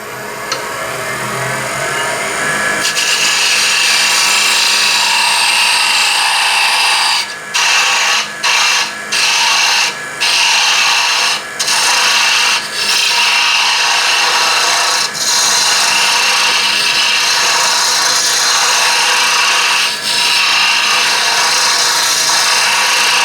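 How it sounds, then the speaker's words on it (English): Parting tool cutting at an angle into the underside of a turned wooden bottle stopper cap on a wood lathe, a steady loud broadband scraping hiss running continuously with brief rhythmic dips, preceded by a quieter spinning whir. "Now to get the underside of the cap, I use my parting tool and kind of come in at an angle."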